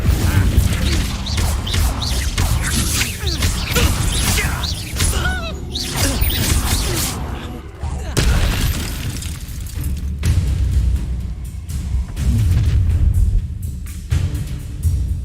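Incendio fire spell blasts in the Hogwarts Legacy video game: loud, dense bursts and booms with crackling debris and busy combat noise, continuous throughout and close.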